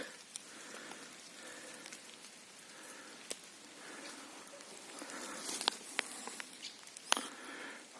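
Rain falls in a forest near Baimaky in Khmelnytskyi Oblast, Ukraine, a soft continuous patter on leaves with scattered sharper drops and light taps, fairly quiet and without talk.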